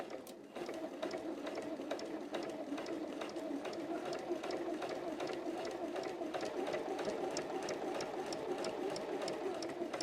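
A sewing machine stitches a bunny softie, running at a steady, fast rhythmic clatter with rapid needle ticks for about ten seconds after a brief start, fairly quiet and with no voices over it.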